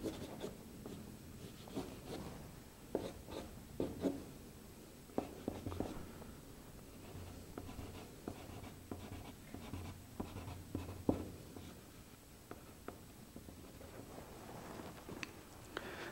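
Watercolor stick dragged and scratched across paper to add texture, soft close-up rubbing and scraping strokes in irregular bursts, quiet and alone.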